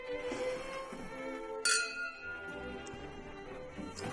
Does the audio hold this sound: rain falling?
no